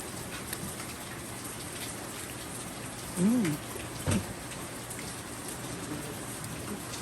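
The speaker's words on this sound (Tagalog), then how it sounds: "Dahil maulan" Steady rain falls throughout at moderate level, a broad continuous patter, with a brief voice and a short sound rising over it midway.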